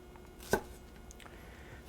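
A knife dices an onion on a cutting board with one sharp, close chop followed by faint taps in an otherwise quiet kitchen.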